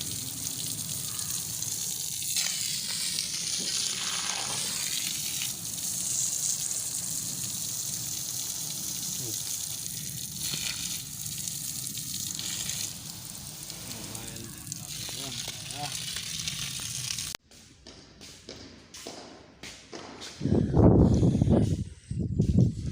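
Water gushes from a 100-foot borewell in a loud, steady rush, then cuts to choppier splashing and a surge of flowing water near the end.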